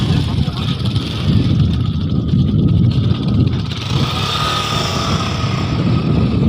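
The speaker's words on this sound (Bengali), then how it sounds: "দেখুন বাইক ওপার থেকে এপারে আসছে" A motorcycle engine drones steadily nearby as it crosses a river ghat area, its rumble rising slightly as it moves, with a constant outdoor background.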